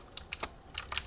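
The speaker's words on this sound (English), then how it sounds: "I'm blowing people's eardrums every time I touch the fucking keyboard" Loud computer keyboard keystrokes in quick uneven bursts, about five sharp clacks with short gaps, close and alone over a faint background hum.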